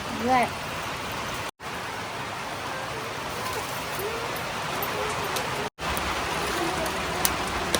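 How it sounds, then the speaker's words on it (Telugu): Steady, dense heavy rain hisses continuously in a forest across the whole stretch, with a couple of brief dropouts and faint voices in the background. "బయట అయితే వర్షం ఎక్కువ అయిపోయింది"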